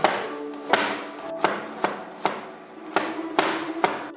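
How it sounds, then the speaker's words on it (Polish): Garlic finely chopped with a knife on a board: a regular series of crisp, close thuds roughly every half second, clear and alone with no voices. "siekam drobno"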